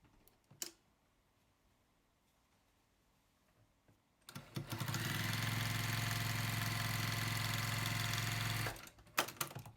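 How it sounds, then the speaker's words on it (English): A sewing machine stitches around a fabric mask, starting after a few quiet seconds with light handling clicks, then running in a steady close whir for about four seconds before stopping. "head over to the sewing machine again because you'll be stitching around the entire mask"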